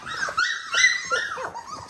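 Three-week-old British Labrador puppies whimper and yip in short, high, wavering cries, several overlapping squeals close by with no talking.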